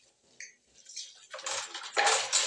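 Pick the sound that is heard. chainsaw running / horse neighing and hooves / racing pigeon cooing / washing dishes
washing dishes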